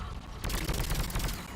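Rapid automatic gunfire rattling in a dense, continuous burst during combat in the Mass Effect 3 video game, loud and close.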